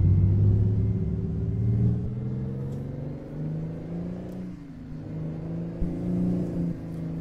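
Kenworth W900 truck from 1974 in American Truck Simulator, its engine droning at low steady revs while reversing, a continuous near rumble with slight pitch shifts and no talk.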